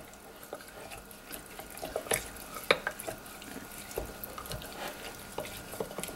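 Rose petals stirred into olive oil, soft wet swishes and small clinks at a close range, irregular and fairly quiet, with no talking.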